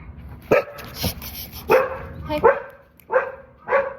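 A dog barks five times in short, sharp, evenly spaced bursts, fairly close and loud, with a person speaking faintly between barks.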